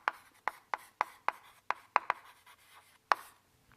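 Chalk taps and scrapes on a blackboard during a lecture, a string of about a dozen crisp, sharp strokes at an uneven rhythm with short gaps, close and clear with no talking.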